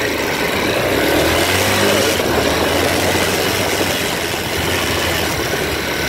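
A Chinese motorcycle engine runs continuously on a ride, a loud, steady drone with rushing wind noise close to the microphone, holding an even level for about six seconds.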